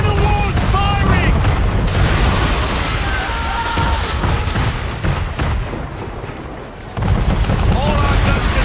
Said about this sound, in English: We're under attack! Man of war's firing!